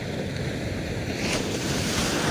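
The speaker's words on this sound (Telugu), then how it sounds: "అలలు చూడు ఎంత పెద్ద వస్తున్నాయి" Big ocean waves roll and crash at a beach, a loud, continuous roar of surf mixed with wind buffeting the microphone, with no talking.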